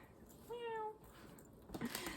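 A single short cat meow rises clearly from a quiet background, followed by some faint rustling and a soft voice.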